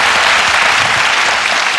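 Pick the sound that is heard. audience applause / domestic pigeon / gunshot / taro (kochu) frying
audience applause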